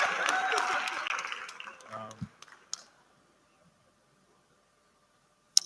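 Audience at a Nigerian agriculture competition grand finale claps together, a dense burst that tapers away over about two seconds, then a few scattered claps, near silence, and one last sharp clap.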